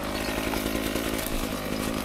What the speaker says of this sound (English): Engine needs to warm up a little bit before we get the high RPMs.